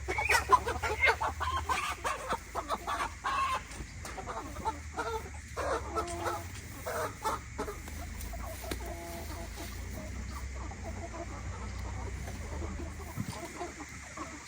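Pastured chickens out on grass and forage clucking steadily at close range, overlapping calls with occasional louder squawks over a faint outdoor background, with no talking.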